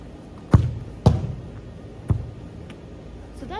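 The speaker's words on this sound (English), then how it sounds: "So first I'll be shooting the ball." A soccer ball struck in a shot on a field gives three dull thuds spaced about a second apart, close and moderately loud, against a faint background with no talking.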